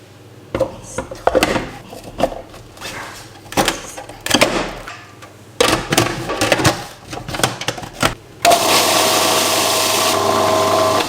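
Kitchen clatter and tapping give way to a blender roaring up and holding a loud, steady whir as it mixes cake batter with oil, rye flour and ground oat flakes.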